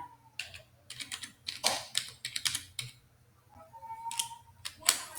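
A password being typed on a computer keyboard, with bursts of quick, close key clicks separated by short pauses and a final pair of harder taps, no talk.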